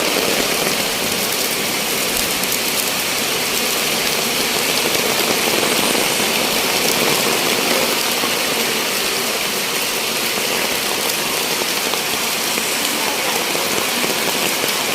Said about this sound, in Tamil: இந்த மழை விளக்குது, அதால் கொஞ்சம் உள்ளுக்கு வருவோம். தகர சத்தத்துக்கு இன்னும் சத்தமாக தான் இருக்குது.